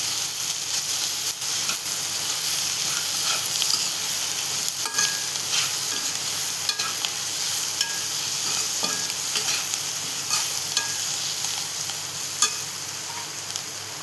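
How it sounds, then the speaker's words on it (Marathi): Drumstick leaves sizzle and fry in a pan for a Marathi monsoon-style greens dish, with a steady close hiss and intermittent scraping stirs throughout, no talking. "आता आपण त्यात भाजी टाकून घेऊया."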